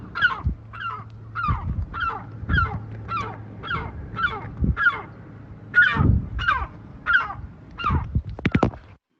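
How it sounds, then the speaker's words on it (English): A recording of a seagull is played back as a run of about a dozen loud, evenly spaced harsh calls, ending in a few quick sharp cries. There is no talking over them. "that's a very vocal seagull"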